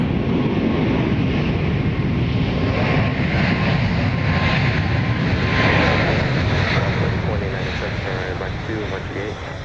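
A Boeing 737 Max 8 airliner arriving from Phoenix roars loudly and steadily nearby, with wind buffeting the microphone, before the engine noise begins to fade toward the end.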